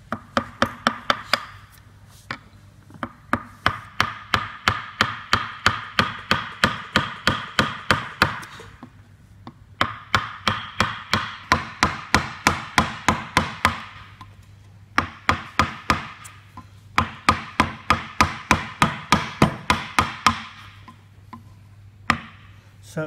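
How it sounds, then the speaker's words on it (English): A chisel taps out steady, rapid finishing cuts in wood during traditional Māori carving, bursts of sharp knocks in long runs separated by brief pauses, close and loud with no talk. "So these are finishing cuts you're doing now, right?"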